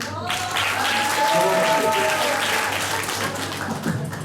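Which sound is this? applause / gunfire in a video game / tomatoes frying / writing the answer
applause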